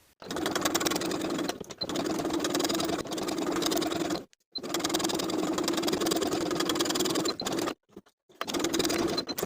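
A sewing machine top-stitches elastic around a bralette in long steady runs, its motor buzzing with brief pauses between passes; no talking is heard.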